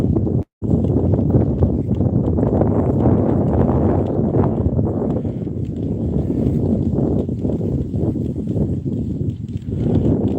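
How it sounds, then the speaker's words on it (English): Strong wind buffets the microphone continuously, a heavy low rumble that gusts and surges, broken only by one brief dropout. "just getting a bit windy."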